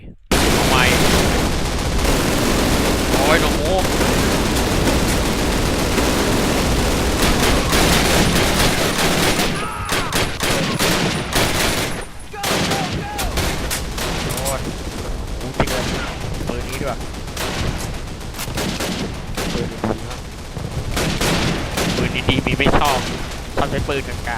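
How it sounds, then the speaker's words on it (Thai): Rifle fire rattles nearly nonstop in a Call of Duty game, loud sustained automatic bursts with heavy booms and explosions, broken by brief pauses and some talking. "ปืนไรเฟิลนะครับ"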